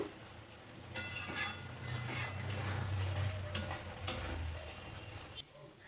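A spice paste (masala) is stirred and fried in a pan with a whole garlic clove; intermittent metallic clinks and scrapes of the spatula ring out over a low, steady rumble.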